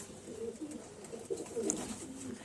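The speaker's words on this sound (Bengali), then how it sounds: "দেখে নিন পায়রাগুলো" Domestic pigeons, including Madras and Ablak breeds, cooing softly in a loft, with low repeated coos and a brief high chirp partway through, no talk.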